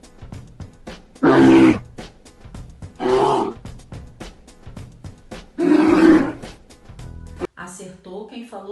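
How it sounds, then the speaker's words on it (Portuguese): A bear roars in three loud, rough bursts spaced a couple of seconds apart, with quieter clicks and murmurs in the gaps between them. "Acertou quem falou que é o urso."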